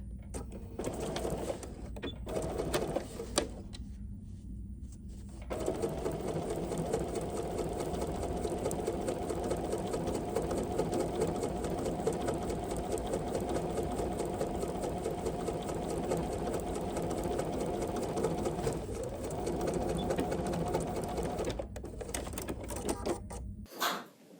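A sewing machine runs steadily, stitching the back spine of a zippered circular bag onto its main panel, after a few brief stop-start bursts at the beginning.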